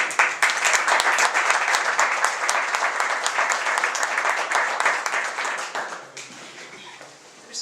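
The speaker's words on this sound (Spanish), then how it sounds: "Pues un aplauso para ellos y para empezar" A book-presentation audience bursts into full, continuous applause that holds strong for about six seconds, then thins out and fades to a few scattered claps.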